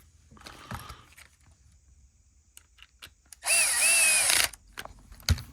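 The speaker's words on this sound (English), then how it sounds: "then we'll put some screws in" Power drill driving a screw into a Milwaukee M18 battery case, one loud burst of about a second with pitch sweeps, surrounded by quiet handling clicks and taps.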